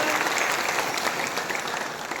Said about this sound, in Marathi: सगळ्यांनी त्यांच्यासाठी एकदा टाळ्या वाजवल्या